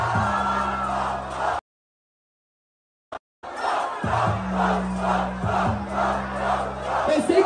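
A live crowd at a rap battle roars and cheers loudly in two long bursts split by a short silence, with chanting swells pulsing in rhythm.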